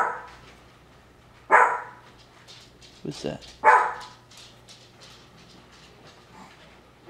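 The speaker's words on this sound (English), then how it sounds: "Your darn midget barks." A small dog barks in a home, a few sharp loud yaps spaced out over several seconds, with people talking around them.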